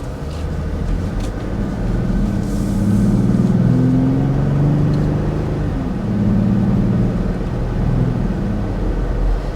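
A Jeep Gladiator fitted with an aftermarket intake pulls away from a start, its engine a steady low rumble that swells as it accelerates, then eases and builds again, heard from inside the cabin with no talking.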